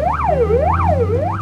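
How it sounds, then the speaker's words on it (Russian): An ambulance siren wailing on a street in Kyrgyzstan, a loud, close, continuous two-tone sweep repeating about every 0.6 seconds over low engine rumble. "Бригада скорой вновь спешит на помощь."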